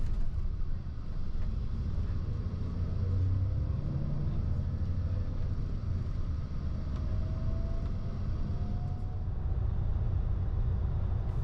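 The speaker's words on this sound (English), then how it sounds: "we were soon underway and back up onto the motorway" A Slovak Lines coach travelling from Vienna to Bratislava cruises along the motorway, heard from inside as a steady, droning low rumble of engine and road noise with faint shifting tones and no voices.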